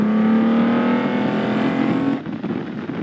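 Toyota Century 1GZ V12 engine revving with a smooth, high, steady howl that holds and climbs slightly before cutting off into a rougher, fading rumble.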